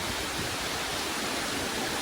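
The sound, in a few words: small waterfalls in Seoraksan valley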